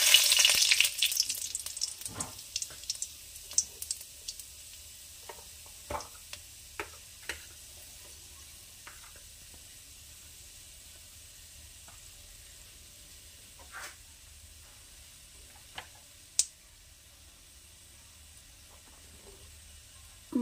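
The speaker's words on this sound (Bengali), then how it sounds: "তেল গরম হয়ে গেছে, দিচ্ছি সামান্য কালো জিরা আর দেব একটু পাঁচফোড়ন, দেব 2টো শুকনো লঙ্কা।" Black cumin, panch phoron and two dried chillies sizzle in hot oil, loud at first, then settling into a faint steady hiss broken by a few sharp ticks and pops.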